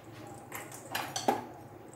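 A spoon scoops two spoonfuls of thick qishta cream into a dish, giving a few light clinks against the bowl in quick succession, close and fairly quiet, with no one speaking.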